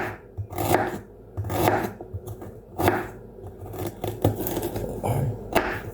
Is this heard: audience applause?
no